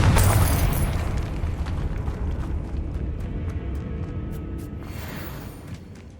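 A Confringo blasting spell explodes in Hogwarts Legacy, a loud booming burst that rolls into a long, slowly fading rumble with scattered crackling debris.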